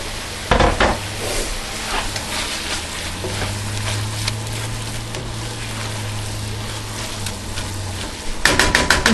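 Beef hits a hot frying pan of sautéed vegetables and sizzles in a loud, steady hiss that lasts throughout, with sharp metallic clanks from utensils near the start and again at the end.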